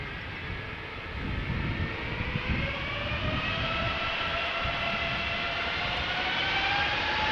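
A United airliner departs Amsterdam Schiphol for Newark in gusty crosswinds, a steady, moderately distant jet roar that swells after the first second, with engine tones slowly rising in pitch.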